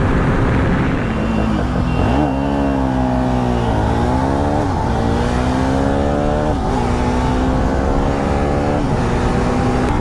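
Pulsar RS400 and Kawasaki Ninja 300 motorcycles accelerating hard side by side in a race, engines loud and close, climbing through the revs with a few gear shifts under constant wind rush.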